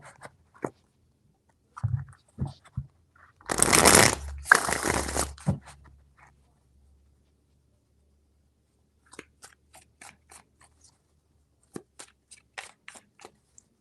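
Tarot cards are shuffled close by, with a dense riffling burst of about two seconds, then scattered soft taps and card handling before and after, quiet between sounds, with no talking.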